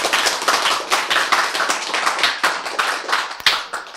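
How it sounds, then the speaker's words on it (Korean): Applause from an audience at a lecture, a dense run of many hands clapping close and loud, holding steady for several seconds without talk. "박수."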